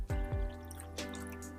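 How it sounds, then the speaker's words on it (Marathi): Water splashes and gurgles into a mixer grinder jar to rinse it in a brief liquid burst, with a couple of wet drips and a hollow ringing tone. "याच मिक्सरच्या भांड्यामध्ये पाणी टाकून घ्यायचं आणि विसळून घेऊयात"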